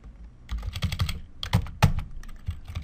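A computer keyboard is used to type a merge-cells shortcut in a spreadsheet, with irregular close key clicks building into quick bursts of a few strokes, loud and alone.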